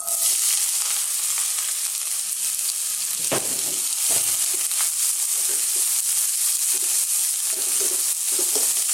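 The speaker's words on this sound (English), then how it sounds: "It's still really hot, so let's go in with our onions." Onions fry in a pan of very hot sunflower oil, giving a steady, loud, close sizzle that runs without a break, with a few brief stirring knocks around the middle.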